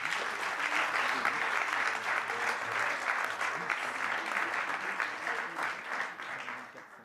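A conference audience claps steadily and densely throughout, a loud sustained round of applause with no break, at a French colloquium on asbestos and pesticides.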